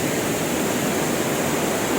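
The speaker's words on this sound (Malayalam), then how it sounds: "അങ്ങനെ പോകുന്നുണ്ട് വെള്ളം" Stream water flows beneath a bridge, a steady broadband rush that is loud and close, with no pauses or voices.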